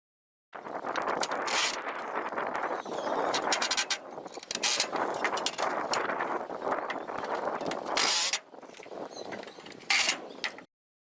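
Screws are driven into an awning fabric tube with a handheld tool, giving several bursts of whirring, ratcheting mechanical noise close by, separated by brief pauses.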